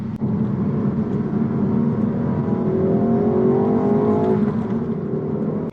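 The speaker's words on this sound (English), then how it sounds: "if we go to a second gear pull" A tuned Ford Focus ST engine revs hard in second gear and climbs steadily in pitch as it accelerates, loud and close, with a rising whine over the exhaust roar and no voices.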